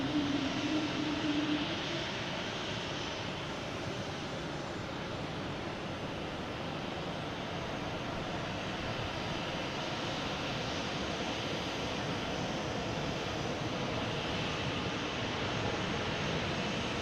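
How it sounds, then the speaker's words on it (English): An Air Canada jet bound for Montreal at Boston Logan airport gives off a continuous, distant engine roar, a steady broad rumble that neither swells nor fades much, with no voices over it. "here comes that Canada flight heading to Montreal"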